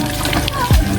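Water is poured from a bucket during an outdoor bath in the Philippine countryside, a brief, loud splash lasting about a second and ending in a sharp gush.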